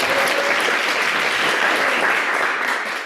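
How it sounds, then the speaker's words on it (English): An audience at a startup show-and-tell session breaks into full, sustained applause, a loud and even roar of many hands clapping with no pause, fading slightly at the end. "give us a round of applause."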